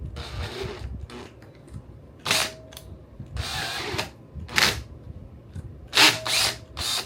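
Power drill driving a screw into a homemade plastic swamp bucket, short whirring bursts of a few seconds each with pauses between, the screw resisting, close and fairly loud.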